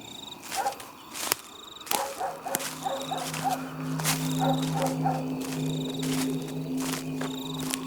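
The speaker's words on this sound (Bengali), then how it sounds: "দূরে একদল কুকুর ঘেউ ঘেউ করছে।" Several dogs bark in the distance at night, short repeated yelps scattered over a steady insect-like drone and sharp cracking hits.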